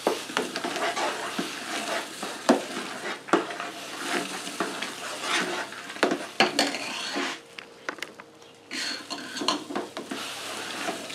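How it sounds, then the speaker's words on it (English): Corn kernels being poured into a pot of wheated bourbon mash and stirred, with close, steady scraping and clattering of a spoon against the pot in a continuous rhythm and no talking. "let me finish adding this corn in"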